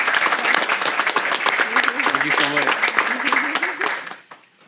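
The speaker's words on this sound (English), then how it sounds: "Let's give them a round of applause one more time." Loud audience applause at a mayor's monthly press briefing, steady clapping with a voice speaking over the middle before it dies away near the end.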